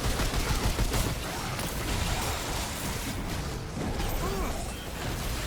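Sustained gunfire in Remnant 2 during a PetZoo summoner build fight: dense, continuous rattling shots with crashes and game effects, loud and steady throughout, with faint talk mixed in.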